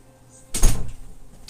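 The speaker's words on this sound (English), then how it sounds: "I gotta go close the door." A house door closes with a single sharp thud followed by a brief rattle that dies away, near and fairly loud in a quiet room.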